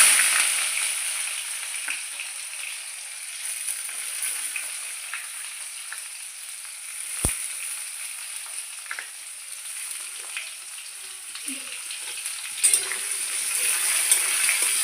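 Onions fry in hot oil with a steady, bright sizzle throughout, close and continuous, broken by an occasional sharp clink of a utensil against the pan.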